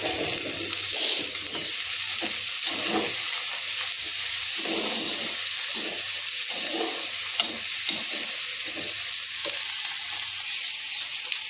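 A tadka tempering fries in a pan with a constant close sizzling hiss, broken by soft irregular bubbling and spattering bursts, with no talking.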